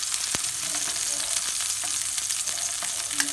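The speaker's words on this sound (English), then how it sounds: "we will fry maybe 4 for now, not too much" Four homemade cheesy pork sausages frying over a very low flame, a constant crackling sizzle with scattered sharp pops and spits, close and alone without talk.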